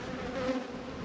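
Honeybees at a hive full of hawthorn honey give off a steady, close, even buzz that holds with no voices over it.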